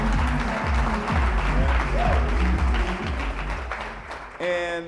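An audience applauds the company's co-CEOs in a steady wash of clapping while a voice speaks over it, with another voice briefly joining at the end.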